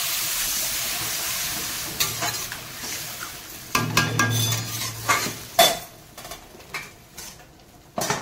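Water poured into a pan of sizzling masala for a Bengali prawn curry, with hissing fry noise and a louder burst as it hits, followed by scraping and stirring clinks of a spoon against the pan.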